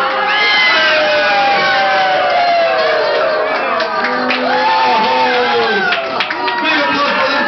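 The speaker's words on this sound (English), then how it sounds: "Big applause for them for being good sports." A crowded cruise ship audience erupts in loud, sustained cheering, shouts and whoops, with excited voices overlapping throughout.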